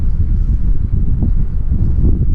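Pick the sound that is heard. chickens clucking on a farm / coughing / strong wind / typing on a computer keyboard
strong wind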